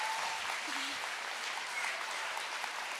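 Audience applause at an education talk, a full, even wash of clapping from a crowd that holds steady for the whole stretch, with a faint voice briefly audible beneath it.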